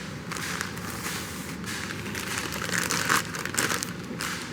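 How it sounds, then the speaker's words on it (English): Packaging being unwrapped from a Futura key cutting machine, steady close crinkling and rustling of plastic wrap with brief tearing sounds, no talk. "let's go ahead and unwrap this machine here."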